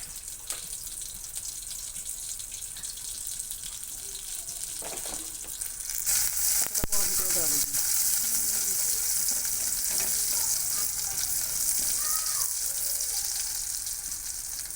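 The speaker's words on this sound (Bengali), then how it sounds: "পেঁয়াজ দেওয়া হলো তেল আমরা সরিষার তেল খাই" Onion frying in foaming mustard oil in a pan, a close steady sizzle that swells louder midway as it is stirred, with occasional scraping and bubbling.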